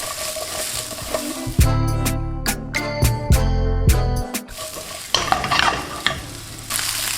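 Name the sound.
peppers and onions sizzling while tossed in a pan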